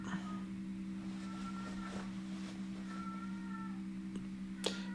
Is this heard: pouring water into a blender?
no